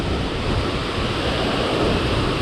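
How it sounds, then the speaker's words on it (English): Strong wind buffets the microphone while fishing for bluegill from a boat at Center Hill Dam, a loud, steady roaring rush with no pauses. "Man, the wind has got us."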